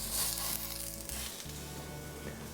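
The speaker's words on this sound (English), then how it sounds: "And we'll get those onions in the grilling process." Onions sizzle and fry in coconut oil in a hot pan, a steady dense crackle that stays loud and close throughout with no talking.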